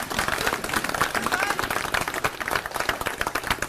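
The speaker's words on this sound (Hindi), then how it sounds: "जोरदार तालियों से स्वागत करेंगे।" A crowd applauds to welcome Arvind Kejriwal at a Diwali gathering of Delhi auto-rickshaw drivers, with dense, continuous clapping filling the space and voices mixed in.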